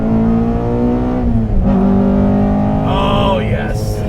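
A 2014 Honda Civic Si with a naturally aspirated engine making 260 wheel horsepower revs loudly and steadily. The engine tone climbs, dips briefly, then rises again toward a high-pitched peak near the end.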